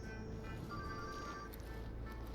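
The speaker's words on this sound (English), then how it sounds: "Someone's getting a phone call." A telephone rings in the video game Deathloop, a quiet electronic bell-like tone sounding in a couple of bursts over low background ambience.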